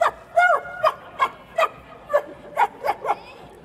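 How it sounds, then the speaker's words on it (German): A dog gives a rapid series of about ten short, sharp barks and yips in an even rhythm, close and fairly loud, with faint background murmur. "Doch da kam herbei der beste Freund des Menschen, nämlich der Hund."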